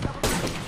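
A burst of rapid gunfire in the Apex Legends video game, loud and dense after a brief quieter lead-in, lasting under a second.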